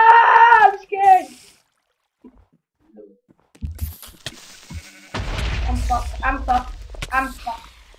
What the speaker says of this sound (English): Fuck you, sheep. Yeah, I killed the sheep.